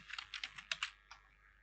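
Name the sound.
typing on a computer keyboard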